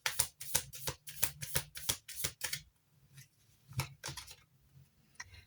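Tarot cards shuffled and handled in a quick run of crisp riffling snaps, followed by a few scattered single flicks and slides of the deck, close and alone with no talk.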